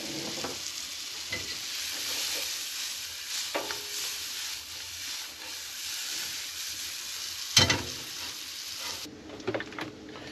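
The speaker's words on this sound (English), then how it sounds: "cook up some of these mushrooms" Mushrooms fry in a pan with a steady, soft hiss and sizzle, broken by occasional scrapes and clatters of a stirring utensil.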